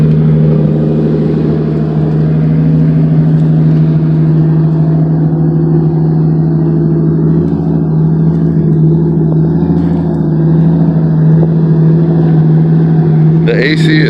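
Car engine idling loudly and steadily with the air conditioning on while the ECU relearns after a drained battery; a constant low hum that holds throughout the clip, with a brief lift near the end.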